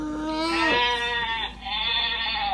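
A children's animal-sound button toy gives out one long, wavering sheep bleat, loud and close. It dips briefly partway through.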